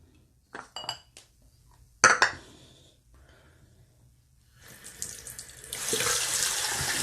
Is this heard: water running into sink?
yes